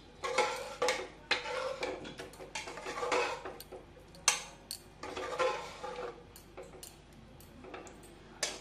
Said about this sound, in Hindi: धनिया को ऐड करने के बाद इसे अच्छे से हम चला लेंगे